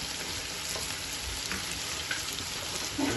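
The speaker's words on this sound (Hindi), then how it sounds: "प्याज और लहसुन अदरक जो डाला हुआ इसी में हमने इसको फ्राई कर लेना अच्छी तरह।" Chicken for a white karahi frying in a pan with onion, garlic and ginger, a steady close sizzle with light stirring throughout, no talking.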